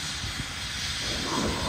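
A steady roar of a medical helicopter landing at a rescue scene, close and loud, with a broad rushing hiss that swells slightly toward the end.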